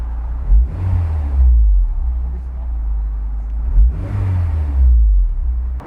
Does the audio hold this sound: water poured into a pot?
no